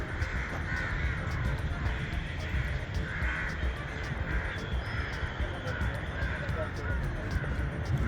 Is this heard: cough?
no